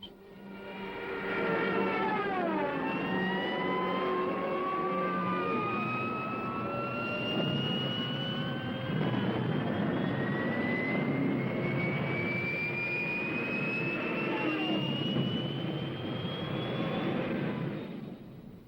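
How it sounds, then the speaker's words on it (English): Stuka dive bombers flying overhead, a loud droning aircraft engine roar with a long rising whine climbing in pitch, sustained and close with no voices. "Rommel sends in Stuka dive bombers to blast the defenders from their emplacements"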